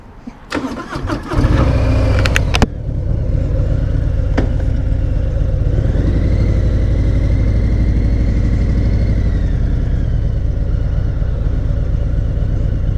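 A Harley-Davidson Sport Glide motorcycle starts up after a few clicks and rumbles loud and close, its engine settling into a steady idle with a rising rev partway through.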